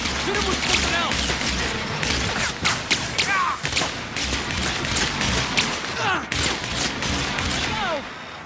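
Gunfire in The Outer Worlds video game, with dense, continuous shots and impacts filling the whole stretch, loud and busy, while voices talk over the combat.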